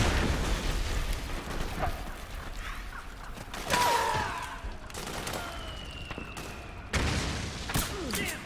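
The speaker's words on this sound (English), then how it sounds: "So there's mortars placed around here." Mortar explosions in Metal Gear Solid 4, with heavy booming blasts and rumbling debris at roughly four and seven seconds over a constant noisy battlefield backdrop, with faint whooshes between.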